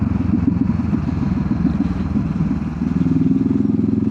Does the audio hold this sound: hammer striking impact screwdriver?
no